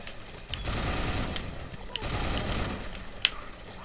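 Rapid volleys of gunfire in the video game Let It Die, a Shooter Class assault rifle fight, coming in two dense bursts at moderate level, with a sharp crack near the end.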